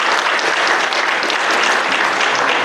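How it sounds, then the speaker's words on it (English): A dense, steady wash of applause from an audience at a school athletic hall of fame induction, loud and close, sustained evenly without pause. "Clap it up for Jonathan."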